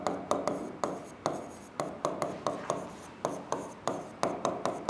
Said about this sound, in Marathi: ह्याला इथे लिहिते.